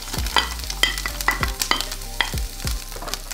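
Onions, garlic and leek sizzle in olive oil in a pan on the stove, with a steady frying hiss broken by repeated sharp scrapes and knocks of a spoon stirring, and no talking.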